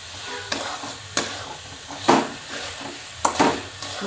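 Mango barfi mixture stirred in a kadhai, a spoon scraping the pan bottom in separate strokes about once a second over a soft continuous sizzle, close and moderately loud.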